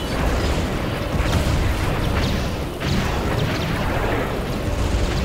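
Continuous dense barrage of booming weapon fire and explosions during a space battle in the Star Wars Empire at War strategy game, loud and relentless with no pauses.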